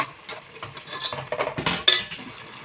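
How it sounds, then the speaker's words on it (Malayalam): Yogurt being stirred into raw chicken for biryani, with a spoon scraping and clinking against the bowl in short, close, uneven strokes. "തൈര് ഒഴിച്ച് നന്നായിട്ട് മിക്സ് ചെയ്തെടുക്കണം"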